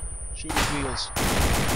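Bursts of gunfire in ARMA 2 aimed at a vehicle's wheels, loud, close shots that break off and then resume in a dense stretch, with voices talking over the firing.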